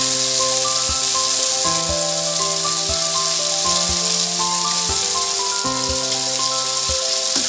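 Chicken pieces going into a hot frying pan for vermicelli biryani set off a steady, close sizzle that lasts throughout, with faint background music playing underneath and no talking.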